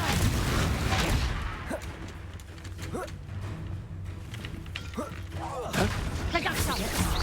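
Confringo spell blasts in Hogwarts Legacy, several sharp bursts and booms spread across the clip over a rumbling game soundscape, with a voice calling out amid the effects.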